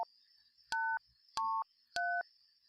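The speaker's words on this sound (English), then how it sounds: "the sounds the keys made went something like" Three short keypad combination tones from the video game Runaway, each a clear two-pitch beep separated by brief pauses over a faint steady hum, with no talk.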